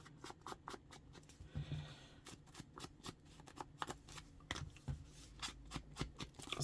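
A craft paper punch works around the edge of a sheet of paper, making a quick run of close, sharp clicks and crunches that is fairly quiet overall.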